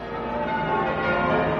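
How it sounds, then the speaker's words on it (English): Church bells ringing at noon somewhere in England for the new year of 2000, a dense, steady wash of overlapping tolls sustained at an even loudness with no voices. "to noon church bells across England,"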